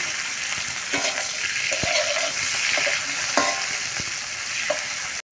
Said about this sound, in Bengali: মাছ কড়াও দিয়ে দেবে। হালকা ভাজা ছিল